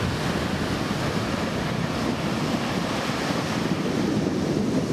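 Surf at the mouth of the Ankobra River near Axim, where it meets the sea: a steady, loud roar of breaking waves mixed with wind buffeting the microphone, with no distinct gaps.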